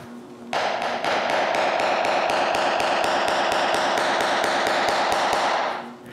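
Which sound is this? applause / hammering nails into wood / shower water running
hammering nails into wood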